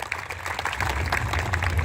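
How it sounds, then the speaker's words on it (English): Audience at a hobby stock racing event clapping for a former driver in a steady, dense round of applause that fills the whole moment, moderately loud and close. "Let's give Bill Veets a nice round of applause."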